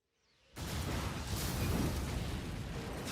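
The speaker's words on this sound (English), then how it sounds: "A space chicken and a big ass explosion" A sudden loud explosion from the Gantz manga adaptation bursts in and then roars on as a sustained, rumbling blast of noise.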